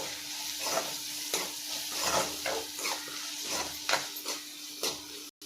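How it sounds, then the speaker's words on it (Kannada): Turmeric powder frying in a pan with rice, a steady soft sizzle broken by repeated scraping stirs, close and moderately quiet with no voices. "ಅರಿಶಿನ ಪುಡಿ ಒಂದು ಸ್ವಲ್ಪ ಹಾಕ್ಕೊಳ್ಳಿ ಅದನ್ನು ಫ್ರೈ ಮಾಡಿ"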